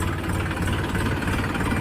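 A Massey Ferguson 254 DI Dyna Smart tractor engine idles with a steady, loud diesel chug and close, even knocking rhythm, alone without talk.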